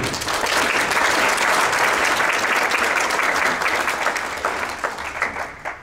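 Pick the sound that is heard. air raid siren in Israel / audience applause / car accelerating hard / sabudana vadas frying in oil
audience applause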